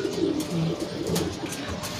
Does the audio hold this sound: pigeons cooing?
yes